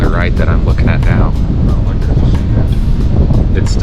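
Strong wind buffets the microphone on a desert ridge with rain spitting, a loud, continuous roaring rumble with gusty bursts throughout.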